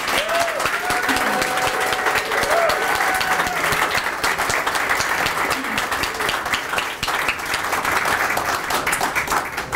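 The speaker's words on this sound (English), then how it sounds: "We just have one big round of applause and some hoops and hollers for Loren." Loud, sustained applause with cheers and whoops from a crowd at a memorial gathering in a cigar bar, continuous throughout with a few voices rising briefly above the clapping.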